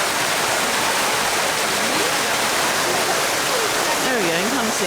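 Fountain in Italy with water splashing and rushing in a constant loud wash, with faint voices in the background.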